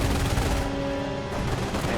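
MG bunkers in Company of Heroes rattle off rapid, continuous machine gun fire, a dense close crackle of shots with low rumbling under it throughout.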